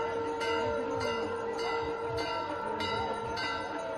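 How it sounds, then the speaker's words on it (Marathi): Bells ring steadily during an evening aarti on the banks of the Godavari river, with repeated clangs over a dense, continuous wash of ringing and ambient crowd noise. "घंटानाद होतोय।"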